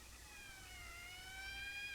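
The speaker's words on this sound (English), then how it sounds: "That's the 5th siren in the last hour." A police siren wails faintly in the distance, its rising and falling tone carrying over low background rumble.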